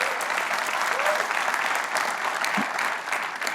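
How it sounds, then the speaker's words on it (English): Large keynote audience at a developer conference applauding, a broad steady wash of many hands clapping, fairly distant and even, with crowd murmur mixed in. "please give yourself a big round of applause"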